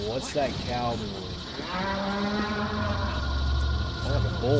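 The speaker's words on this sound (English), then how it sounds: "What's that cow doing?" A cow in Metal Gear Solid 4 lets out a long, loud moo that rises and falls over a steady low hum of in-game background noise.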